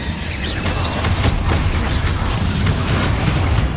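The Incendio fire spell in the video game Hogwarts Legacy bursts into a loud, continuous roaring blast with crackling pops and a heavy rumble throughout, with no talking over it.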